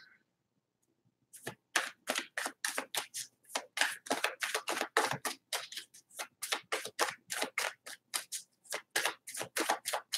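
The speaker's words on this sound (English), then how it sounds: "One more shuffle here." Tarot cards riffled repeatedly in quick crisp bursts, a rhythmic series of close ruffling snaps after a brief quiet start.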